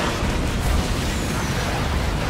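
Rockets fired and exploding in the pirate naval game Skull and Bones: a heavy, continuous rumbling blast with deep low-end booms, loud and close, with no talk.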